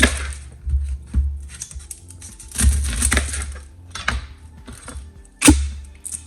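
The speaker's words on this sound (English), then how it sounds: "So we're gonna cut a second onion just to make sure we have enough." A knife slices through an onion on a board, with irregular sharp chopping knocks and crisp cuts spaced across the stretch, some louder thuds among quieter strokes.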